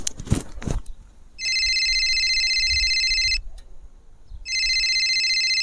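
A telephone rings unanswered, two long electronic trills separated by a pause, loud and close, after a few brief knocks or thumps at the start.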